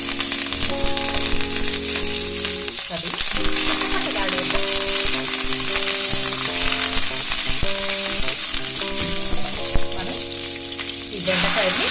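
Curry leaves and chillies frying in hot oil, a loud, dense, continuous crackling sizzle close by, with hums and clatter underneath and a brief voice in the background.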